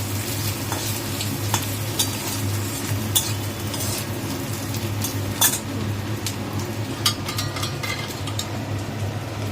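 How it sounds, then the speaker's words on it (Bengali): Steady hissing sizzle of green chillies, ginger and bay leaves frying in hot oil, with a constant low hum and occasional sharp clinks of a utensil against the pan. "মা তেল দিয়ে তার মধ্যে কাঁচা লঙ্কা আদা আর তেজপাতা ফোড়ন দিয়ে দিয়েছে"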